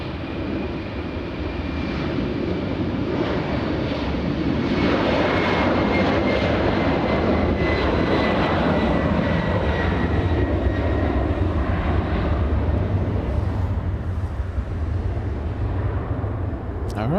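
A passenger jet airliner takes off from LAX bound for JFK, its engines a loud, steady broadband roar holding for the whole stretch with a faint rising whine, while a voice talks over it.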